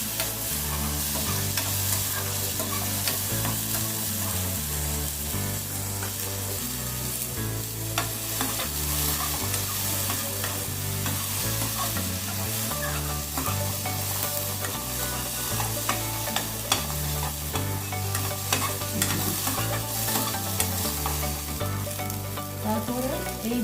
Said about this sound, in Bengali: তারপরে সবজিগুলো দিয়ে দিলাম, দিয়ে একটু জাস্ট নাড়াচাড়া করবো।